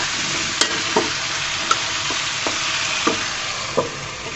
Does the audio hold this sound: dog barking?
no